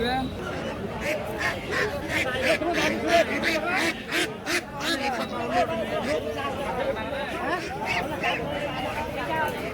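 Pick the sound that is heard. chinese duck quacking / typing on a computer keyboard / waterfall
chinese duck quacking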